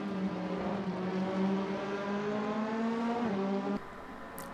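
Race cars lapping on a circuit, among them the number 27 Audi, as a loud sustained engine drone with rising and shifting pitch holds steady before cutting abruptly lower near the end.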